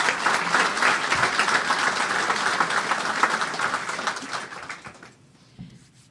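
Sustained applause from the audience at a softball coaching staff introductory press conference, steady dense clapping that fades out near the end, leaving a brief quiet tail.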